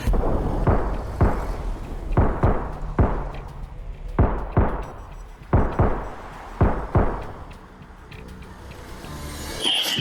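Several loud gunshots ring out in an interrogation room, sharp, heavy bangs in irregular bursts, some fired in quick pairs, each followed by a short echoing decay.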